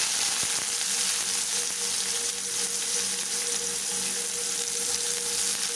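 Onions frying in a pan with curry leaves absent, a steady dense sizzle and crackle running throughout at close range, with no talking.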